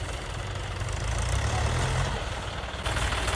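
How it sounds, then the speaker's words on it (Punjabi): A mulcher tractor idles on a farm field with a continuous low, rumbling diesel drone, steady and fairly close, heard with no talk. "ਮਲਚਰ ਟਰੈਕਟਰ ਵੀ ਆ ਗਿਆ"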